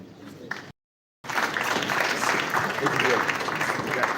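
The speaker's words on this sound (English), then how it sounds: "There's a warm applause once again to Agnieszka Torres" An audience applauds at the signing of a national peace accord in Nigeria. A brief stretch of quieter sound comes first, then a short silence, then a thick, sustained rush of clapping that continues to the end.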